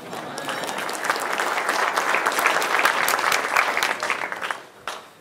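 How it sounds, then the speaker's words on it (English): Steady, dense applause fills a community business gathering, many hands clapping together at a strong level before tapering off near the end with a last scattered clap. "applause for Sally Carter."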